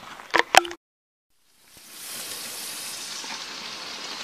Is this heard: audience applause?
no